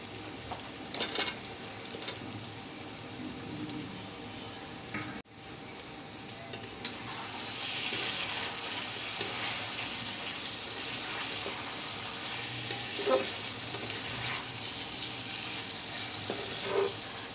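Boiled, peeled jackfruit seeds frying with broiler chicken in a pan, a few clatters first, then a steady, moderately loud sizzle with faint stirring scrapes.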